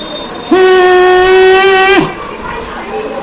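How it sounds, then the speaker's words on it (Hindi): A homemade pipni whistle blown loudly, one sustained steady tone lasting about a second and a half with sharp start and stop, sounding close and like a train whistle. "कमाल की है भाई, सीटी आपकी ज़बरदस्त बज रही है।"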